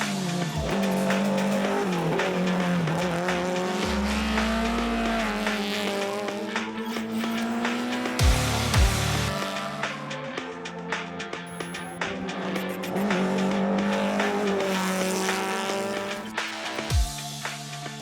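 A BMW race car is driven at speed on a track at a speed festival, its engine roaring and rising through gears, with tyre squeal and a few sharp pops as it passes.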